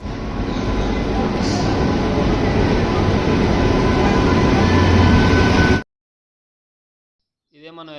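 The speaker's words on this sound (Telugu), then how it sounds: "ఇదే మనం వెళ్ళాల్సిన ఏపీ ఎక్స్ప్రెస్ ట్రైన్." The AP Express passenger train, running from Visakhapatnam to Delhi, passes with a loud, steady rumble of rolling wagons that cuts off abruptly into silence, followed by a brief voice at the end.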